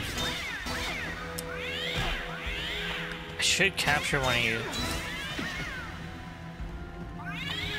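Cat creatures in the video game Sphinx and the Cursed Mummy give rising, wailing meows in quick bursts among crashes and hits, while a person talks over them.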